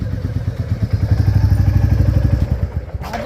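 Motorcycle being wheeled out and its engine running, a loud close low-pitched thumping idle with rhythmic pulsing and some clatter, ending in a brief rising noise.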